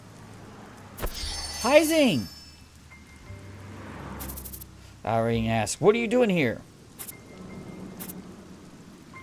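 Rain falls in the video game Troubleshooter, a steady soft patter under the whole clip. Voices and sharp in-game effects break through it in bursts.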